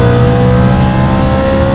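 A V8 BMW M3 engine roars loudly up close, revving hard with a sustained rising pitch through a downshift.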